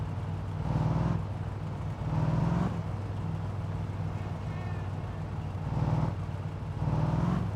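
A car engine droning at night in the driving game My Summer Car, a steady low hum with rhythmic swells in the revs, heard up close with no talk.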